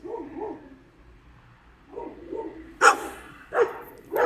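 Dogs bark at night in a distant outdoor setting, first in soft paired woofs, then several sharper, louder barks in quick succession.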